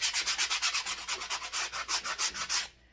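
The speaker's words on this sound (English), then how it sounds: "take our sanding block here, and we are just gonna go" Steady back-and-forth scraping of a sanding block over wood, about a dozen rhythmic strokes, close and alone, stopping abruptly near the end.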